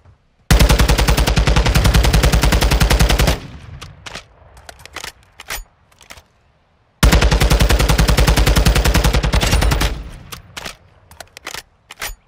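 Video game gunfire: two long, loud bursts of rapid automatic fire, each lasting about three seconds, with scattered single shots and quieter battle noise between them.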